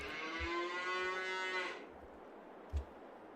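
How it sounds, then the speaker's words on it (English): Cows in the Farming Simulator 22 video game give one long, clear moo lasting under two seconds, followed by quiet background and a single soft thump. "let's fill it up with some cows and see what it looks like"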